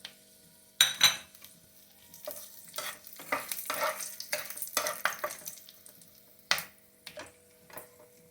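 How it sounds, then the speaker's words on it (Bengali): Whole spices go into hot oil for a vegetarian Basanti pulao: bay leaves, cardamom, cloves and cinnamon crackle and sizzle quietly in short bursts, mixed with scattered clinks and scrapes of a utensil against the pan. "তো আমি এবার এটা ফোড়নে দিয়ে দিলাম।"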